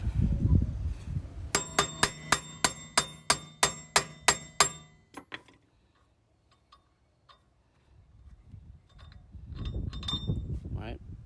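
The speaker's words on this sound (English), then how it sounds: "Grab a hammer." A hammer strikes a rear axle nut on a Nissan 350Z about ten times in a steady, ringing rhythm, followed by scattered clinks and low voices afterward.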